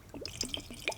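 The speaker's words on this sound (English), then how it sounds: "Actually, I'm gonna pour myself another drink." Rum pours into a glass in a brief, close gurgle, a few quick liquid glugs and drips over about a second.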